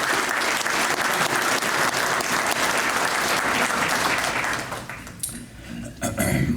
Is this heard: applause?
yes